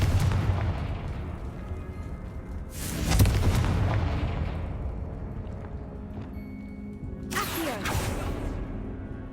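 Confringo blasting spells explode in Hogwarts Legacy, with two heavy booming bursts several seconds apart rising above a constant rumbling game soundscape.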